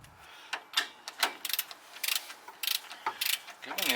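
A wrench loosening a rusty steering tie rod on a Ford F150, giving a quick series of sharp ratcheting clicks and metallic snaps, close and fairly faint.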